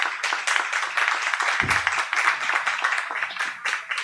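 Audience applause at an evening science talk event, dense steady clapping from a crowd lasting throughout, fairly close, with a brief low voice-like thump midway.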